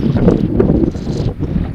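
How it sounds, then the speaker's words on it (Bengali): Strong wind sweeps across a tidal river in the Sundarbans during a fishing trip by boat, a steady, loud, buffeting rumble pressing against the microphone with no voices. "আজকে প্রচন্ড হাওয়া দিচ্ছে নদীতে"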